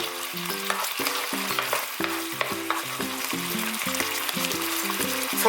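Thin pork belly slices are stirred through a simmering soy-based seasoning sauce, a continuous bubbling sizzle with light stirring noises running beneath a stepping melodic music track.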